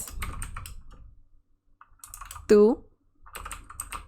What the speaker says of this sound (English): Sorry, I'm not looking at the keyboard, so it's hard for me sometimes to type.